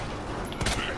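A single short gunshot in Resident Evil 2 bursts out against a constant background of game ambience, fairly quiet and over almost at once.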